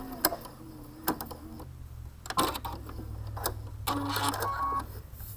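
A sewing machine working long basting stitches gives off an irregular run of mechanical ticks and clacks over a low motor hum that builds toward the end, close and fairly quiet, with no talking.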